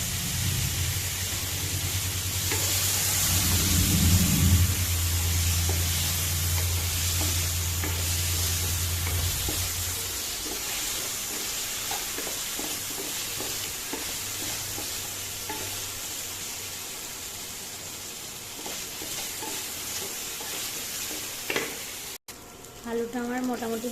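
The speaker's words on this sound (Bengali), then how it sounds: "আলুটা আমার মোটামুটি ভাজা হয়েছে।" Potato pieces fry with turmeric in a pan for a cabbage ghonto, giving a steady, close sizzle with occasional stirring scrapes. The sizzle is loudest early on and settles into a softer hiss.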